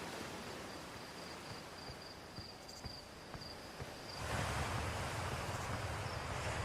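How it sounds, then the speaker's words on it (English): A loud waterfall in a video game roars as a steady wash of rushing water with a thin high tone and faint clicks, growing suddenly louder and fuller partway through. "That was a loud waterfall."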